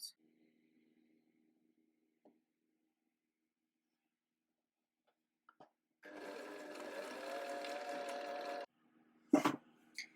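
After a long near-silence with small handling clicks, a sewing machine runs in one steady burst of about two and a half seconds, stitching a jersey fabric strip for a maxi skirt, followed by a short knock.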